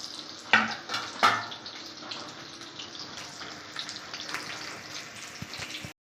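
Katla fish fries Bengali-style in a pan with spices over a low flame, giving a steady, close sizzle with a couple of sharper spatters near the start.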